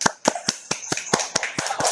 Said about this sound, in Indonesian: Tepuk tangan untuk Tony.